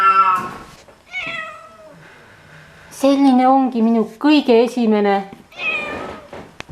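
A homeless cat meows repeatedly at close range, with several drawn-out, wavering calls in a row, while a person speaks softly around them.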